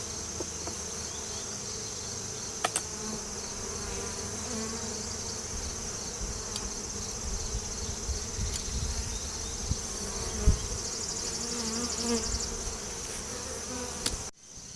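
A dense, steady hum of honey bees swarming around an opened nuc hive during an inspection, sustained and close throughout, with a few faint knocks of equipment and no speech.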